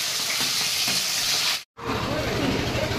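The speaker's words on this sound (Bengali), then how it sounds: "এখনও মাছ ভাজছে" Fish fries in a pan with a steady, close hiss and crackle of hot oil, broken by a sudden brief gap of silence before the sizzle resumes.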